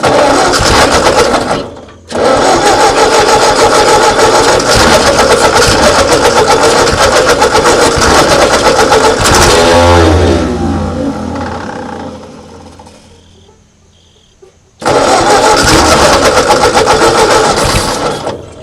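A 1939 Ford tractor engine, left in a field for over twenty years, runs loud and rough close by, winds down and nearly stops, then roars back up again.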